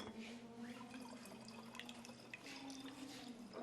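Lavender essence and water drain from a copper still used to distill wild lavender, giving a faint, steady trickle with intermittent drips and light splashes, quiet and continuous.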